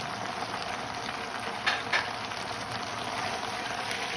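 Chicken and cabbage stir-fry sizzling in a pan gives a steady hiss of frying with a couple of brief scrapes or clinks of a utensil midway, at close range and without talk.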